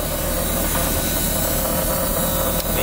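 Jaguar V12 engine running in an engine bay, a loud, steady, broadband roar with a constant low hum that stays unchanged from start to finish, near and with no talking.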